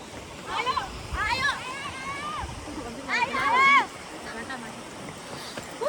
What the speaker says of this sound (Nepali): यहाँ चाहिँ हामी एउटा सानो खोला देख्न सक्छौँ।